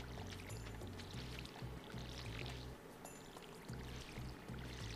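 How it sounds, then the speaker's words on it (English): A watering can pours over crops in the farming video game Stardew Valley, giving a steady trickling splash with a small break partway through, under a bright, busy game soundtrack. "Start watering again."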